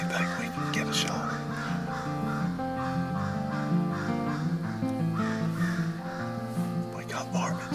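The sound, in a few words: crows cawing in the woods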